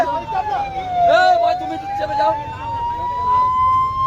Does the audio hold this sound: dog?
no